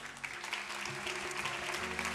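The audience at the Hello Women 2023 event applauds Alexandra Palt of L'Oréal, a moderate, even patter of many hands clapping for about two seconds over a faint sustained tonal hum.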